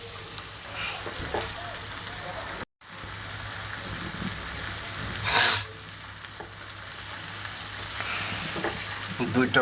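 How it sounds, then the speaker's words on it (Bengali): Dried loitta fish cooks with eggplant and potato in a pan, producing a steady close sizzle with scraping stirs and a brief louder spatter, interrupted once by a short dropout. "বেগুন একটা আলু দিয়ে ভোনা করতেছি কষাই নিচ্ছি শুটকি মাছ"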